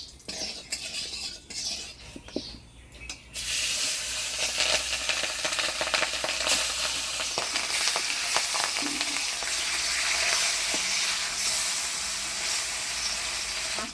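Pangas fish frying in a small amount of salted hot oil, with a steady loud sizzle and crackling spatter that sets in abruptly after a few seconds of quieter kitchen sounds and keeps going without talk.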